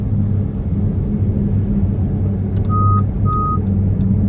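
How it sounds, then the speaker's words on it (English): A truck's reversing alarm during road repaving work on a Florida highway exit, two short high beeps heard over a loud, steady engine and traffic rumble inside a moving car. "Don't mind the beeps."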